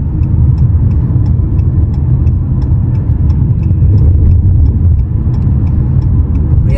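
Steady loud engine and road rumble from inside a car accelerating on the 401 highway eastbound toward Montreal, with a continuous tire roar on a bumpy surface and faint ticking above it.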